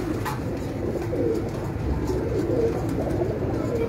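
Breeder pigeons on a rooftop in Gujranwala coo in a steady, overlapping murmur for the whole stretch, close and fairly loud with no speech.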